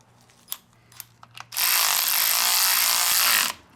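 A power screwdriver whirs steadily for about two seconds while starting screws on the impeller housing of a Mercury boat motor. A few small clicks and handling sounds come before it, and the close, loud buzz then cuts off.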